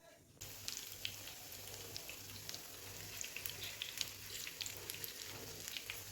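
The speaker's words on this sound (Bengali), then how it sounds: "দেখুন, এখানে আমি সবকটি বড়াকে একে একে তেলের মধ্যে দিয়ে দিলাম।" Lentil fritters (bora) crackle and sputter in hot oil, a busy, fairly faint sizzle with scattered sharp pops that starts suddenly and continues steadily to the end.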